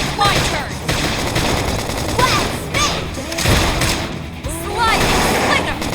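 Rapid bursts of gunfire and fusillades during a Xenoblade Chronicles X battle, loud and close, layered with shouted voices and battle effects in quick repeated volleys.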